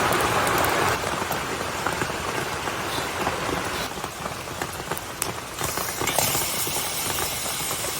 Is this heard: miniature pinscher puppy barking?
no